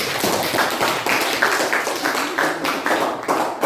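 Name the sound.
applause for group B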